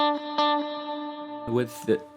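A sustained electric guitar note rings with echoing delay repeats, followed by a short burst of speech over the fading tone.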